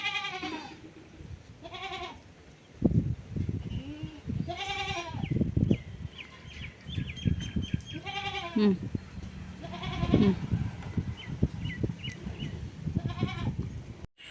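Several goats on a farm bleat again and again at close range, loud wavering calls overlapping one another above rustling and shuffling noises.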